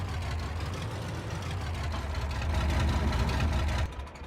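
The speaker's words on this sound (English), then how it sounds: "Tractor's cool, but it's really noisy." Tractor engine in the Farming Simulator 22 game, a steady low rumbling drone at a near-idle pace, loud and constant, dropping off slightly at the very end, no talk.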